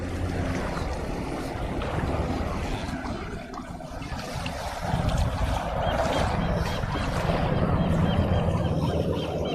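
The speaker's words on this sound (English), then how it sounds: "It's windy." Steady wind buffets and roars close by, a broad rushing noise that swells slightly in the second half, with no voices.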